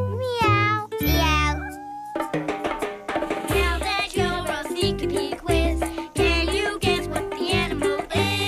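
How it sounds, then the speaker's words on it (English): A cat meows repeatedly, several clear drawn-out cries in quick succession, close and loud, with a few short vocal sounds mixed in. "It's meowing."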